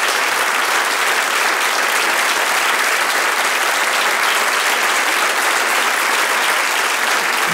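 Theatre audience at Švandovo divadlo applauding, a dense, steady wash of many hands clapping that stays loud and even for the whole stretch, with no voices standing out.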